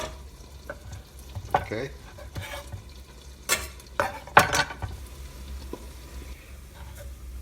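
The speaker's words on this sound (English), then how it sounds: "as you chop the onion, you have the oil heating up" Chopped onion sizzling in hot oil in a pan, with a low steady fry broken by stirring scrapes and clatters of utensil on the pan; a voice speaks briefly.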